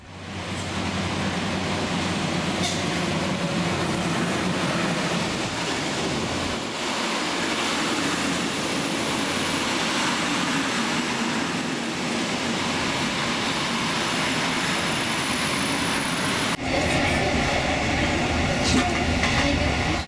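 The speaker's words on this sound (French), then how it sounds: "C'est une belle rame des MAV avec sa locomotive diesel qui rentre en gare à bonne allure." MÁV diesel locomotive hauling a passenger train into a station at a good speed, a loud, continuous rumble of engine and rolling wheels with rail clatter, close by throughout.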